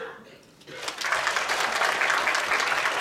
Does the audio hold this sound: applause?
yes